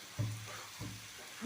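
Food sizzles in a frying pan while a utensil stirs it, two distinct scraping stirs against the steady hiss of frying, close and fairly quiet.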